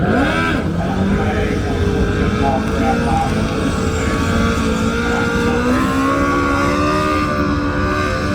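A drag racing car engine revs loudly at an off-street drags event at a dragway, its pitch climbing and holding in a sustained roar, with a voice talking over it throughout.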